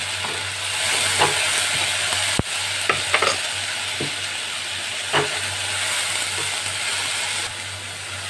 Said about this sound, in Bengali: আদা টমেটোটা আমি কষে নিয়েছি